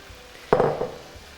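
Turnip greens hit a hot frying pan with a brief burst of sizzling and a light metallic clatter lasting about half a second, then fading to quiet.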